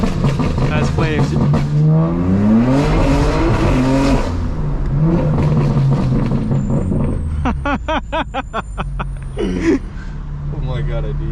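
The engine of a 900HP 2025 BMW M4 Competition revs loudly as the car accelerates, with repeated rising sweeps and a tighter burst of revs later on. Voices can be heard in the cabin.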